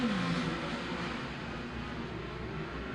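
Race car engines roar and rev together at the green-flag start of an A main, a loud, dense, continuous engine drone with a rising whine at the very beginning.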